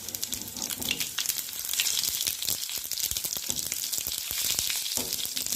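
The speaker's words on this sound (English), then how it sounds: "So now my garlic and this will get fried." Garlic and dry chilies fry in a pan with a dense, crackling sizzle that stays loud and continuous, popping irregularly without pause and with no talking.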